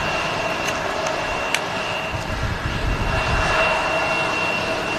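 A jet airliner passes at Manchester Airport, its engine roar a steady broadband rumble with a sustained high whine, moderately loud and fairly close, with no talk over it.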